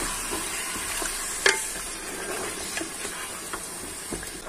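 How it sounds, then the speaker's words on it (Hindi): Spices and nihari masala are stirred into beef nihari in a pot, with a steady sizzling hiss broken by a sharp utensil knock and a few softer scraping strokes, close by. "ये डालने के बाद हम ये सारे मसाले जो है ना मिक्स कर लेंगे"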